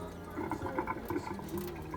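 Raw rice being washed by hand in water in a bowl or pot, a continuous close sloshing and swirling with small splashes and drips, steady throughout with no talking.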